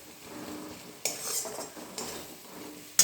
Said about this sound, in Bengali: এবার মশলাটা আমি ভালো করে কষিয়ে নেব ততক্ষণ এই মশলা থেকে তেল ছেড়ে বেরোচ্ছে